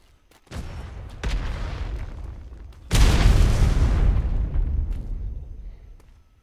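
An artillery round fires and detonates at a forward operating base in a live-fire strike: a heavy boom opens, followed by a second, louder blast with a long rumbling roll that slowly fades, with no talk.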